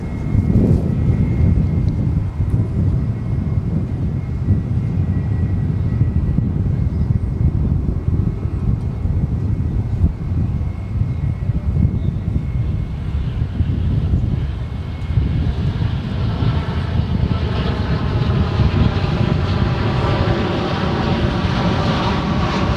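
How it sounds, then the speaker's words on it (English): An American Airlines Boeing 787-8 Dreamliner landing at Dallas-Fort Worth airport, a loud continuous jet engine roar with wind buffeting the microphone, the pitch shifting as the plane passes. "787-8 Dreamliner coming in from Tokyo Narita"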